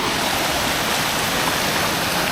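The Nant Melyn waterfall pours in a steady, dense rush of water, loud and close, with a constant broadband roar and no pauses or voices.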